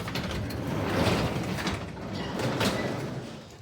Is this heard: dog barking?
no